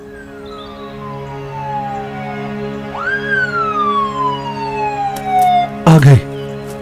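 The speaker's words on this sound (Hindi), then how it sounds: "एम्बुलेंस पहुंचने वाली है।" Ambulance siren wailing in rising and falling sweeps, loud and close, joined near the end by a sharp burst of other noise.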